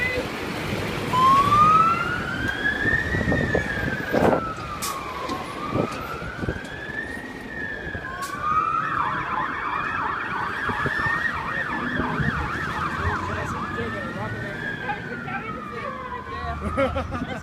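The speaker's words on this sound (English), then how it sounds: "the siren like kind of came off and their phone rang and they're like, oh sorry guys, we've got to go" Fire engine sirens wailing as the trucks pull away from a fire station, the rising and falling tone sweeping back and forth, then switching to a rapid yelp, with road rumble underneath and voices talking nearby.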